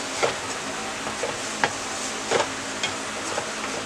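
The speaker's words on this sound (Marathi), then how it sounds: "मसाले फ्राय करून घेऊया।" Red chilli powder, garam masala, coriander powder and turmeric fry in oil in a pan for bread masala, making a steady soft sizzle broken by several light spoon taps and stirring scrapes, close and moderately quiet.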